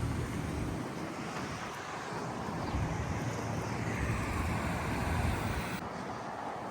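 Wind rushes steadily past during a motorcycle ride through California farmland toward Solvang, a continuous broadband roar of buffeting air at moderate level with no clear voices.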